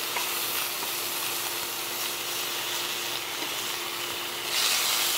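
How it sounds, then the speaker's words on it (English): Bacon and an egg cooking together in a single pan for a breakfast bagel, giving a steady, continuous sizzle and crackle of fat that stays even throughout, close by and with no talking. "in the same pan I'm preparing my bacon, I'm also gonna be cooking off my egg"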